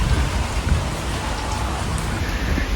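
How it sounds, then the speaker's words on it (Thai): Steady rain falls outdoors on a dark, sunless day, a dense continuous hiss with no breaks and no voices. "ข้างนอกก็คือ ฝนตกนะคะ"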